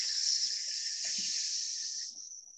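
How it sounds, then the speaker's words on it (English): Sheetkari pranayama breath drawn in through the teeth, a steady close hissing inhale lasting over two seconds and fading at the end, with no voice. "So Sheetgari is going to be like breathing in through your teeth"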